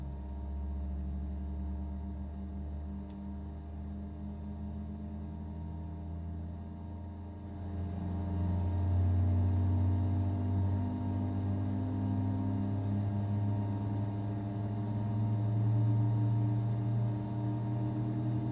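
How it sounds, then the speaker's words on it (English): Cessna Citation Sovereign+ business jet engines in a flight simulator, a steady whining hum with a deep drone that swells louder partway through, like engines spooling up, continuous with no talking. "Those engine sounds, man."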